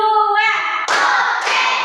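A classroom of children clapping in rhythm during a getting-ready-to-learn chant, a voice chanting first and then two sharp group claps close together.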